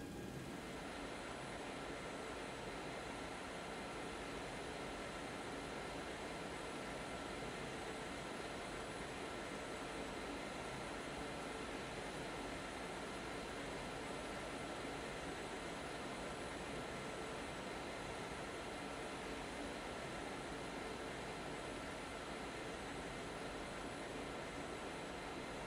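Steady, loud broadband engine and air roar from a Boeing 727 during pushback in the X-Plane 11 flight simulator, unchanging throughout with no talk.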